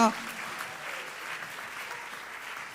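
A slam poetry competition crowd applauds in a soft, continuous wash of clapping that holds steady, sounding somewhat distant.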